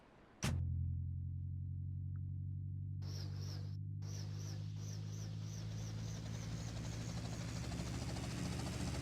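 Sea Sparrow helicopter in GTA Vice City, its engine starting abruptly and settling into a loud, steady rotor and turbine drone, with rhythmic blade chop building over several seconds.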